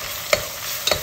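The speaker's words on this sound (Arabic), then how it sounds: "ثوم مطحون طازة نقلبها بس تطلع ريحة الثوم." Freshly minced garlic sizzles steadily in a hot pan while a utensil stirs it twice, the scrapes briefly rising over the continuous loud frying hiss.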